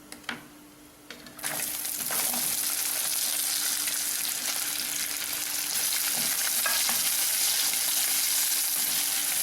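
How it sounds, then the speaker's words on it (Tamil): Onions sauté in a hot pan for a spicy Kara chutney, a steady bright sizzle filling the clip after a quieter first second and a half, with occasional scrapes and clicks of stirring. "நல்லா வெங்காயம் வதங்கணும்."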